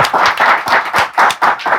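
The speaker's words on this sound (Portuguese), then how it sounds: "Palmas para Vanderlei Luxemburgo." Close, loud rhythmic clapping from a talk show studio audience, roughly seven distinct beats in under two seconds.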